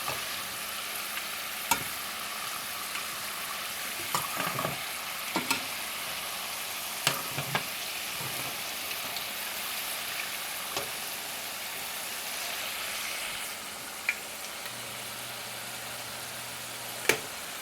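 French fries bubble and hiss continuously as they deep fry in oil, with a steady sizzle and occasional small pops and clicks, and no talking.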